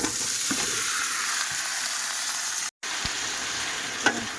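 Curry poured into hot oil with bay leaf and five-spice mix, a loud continuous sizzle with a few stirring clicks and one brief dropout, heard close with no talk.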